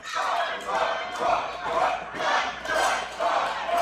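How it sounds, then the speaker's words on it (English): A wrestling arena crowd roars loudly for Roy Cooper at a Now That's Wrestling show, the cheering and yelling swelling in repeated waves with a faint voice mixed in. "Insanely loud crowd here for Roy Cooper."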